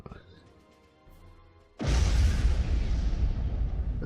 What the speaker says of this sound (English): I think that's supposed to be like a secondary explosion or something.